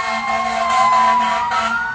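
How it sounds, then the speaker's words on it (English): Fire truck siren wailing steadily nearby, loud and sustained with a slowly shifting pitch, heard from inside a car with no talk. "got the fire truck over there."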